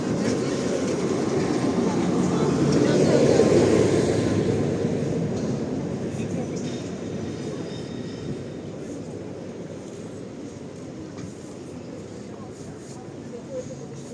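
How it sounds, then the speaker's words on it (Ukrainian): A tram rolls along a street in Lviv, a steady low rumble that swells as it passes close and then slowly fades, with the clatter of rails over city background noise and voices. "Ну, трамвайчик нам пощастило."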